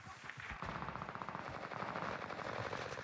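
Rapid bursts of automatic gunfire in the video game Warzone, a dense stuttering string of shots that starts abruptly and keeps rattling for about two and a half seconds, close and sharp with no voices.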